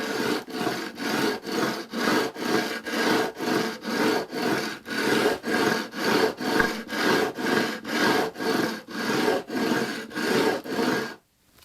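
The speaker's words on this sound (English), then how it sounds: "I level all of them with 120 grit sandpaper over a bastard file which is glued to a block of wood." Guitar frets on a classical guitar being leveled with 120 grit sandpaper wrapped over a bastard file glued to a wood block, giving a steady series of about twenty rhythmic back-and-forth rasping strokes, close and even, with no talking.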